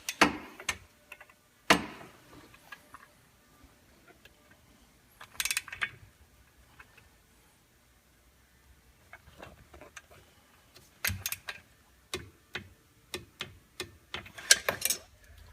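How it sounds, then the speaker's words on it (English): A ratchet torques the clutch on a 2015 Polaris Ranger 900XP, giving short bursts of close, crisp clicking separated by quiet pauses, with no talking. "You can use the tool that is supplied in the kit that we use for opening up the sheaves to put the belt on to hold the clutch in place so it can be torqued."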